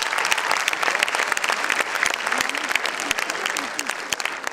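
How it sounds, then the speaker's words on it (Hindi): An audience claps together at a school function, loud, dense and continuous, the many hands overlapping in a sustained burst from start to finish. "जो इस बात से सहमत है वो इस बात के लिए ताली बजाएं कि वो भी करेंगे।"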